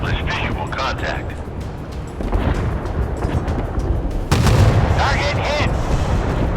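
Naval guns fire in a warship combat video game, heavy booming blasts rolling one after another with a louder, closer salvo near the end, all under continuous battle noise.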